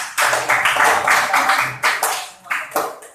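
A classroom of students clapping for a classmate after she finishes a recitation, a burst of uneven hand claps with short gaps and swells, fairly close and loud.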